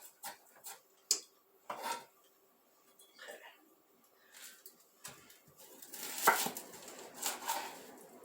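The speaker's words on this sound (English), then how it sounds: "I'm also cutting the other half for her cabbage casserole, so I might as well cut it all up at once." A knife chops through cabbage in a home kitchen for a casserole, giving scattered, uneven thuds and crunchy cuts, fairly faint, with quiet background noise between strokes.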